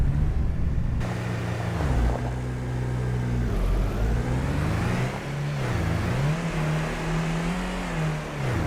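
A car engine drives through town in Farming Simulator 25, a steady, close hum whose pitch climbs and dips with the revs, continuous with no talk over it.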